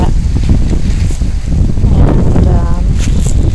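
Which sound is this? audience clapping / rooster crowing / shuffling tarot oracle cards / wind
wind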